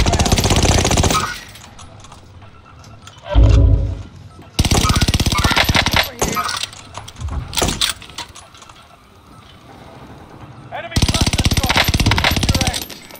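Heavy rapid gunfire rattles in long sustained bursts while a player shoots from a mount in a trios match, loud and close, with speech in between the volleys.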